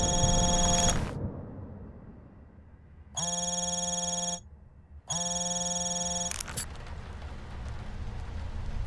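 A telephone in Hitman: Absolution rings in two long, even bursts with a pause between them. Another tone fades just before the first burst, and a faint hiss of rain-like ambience sits underneath.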